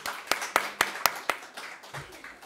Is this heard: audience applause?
yes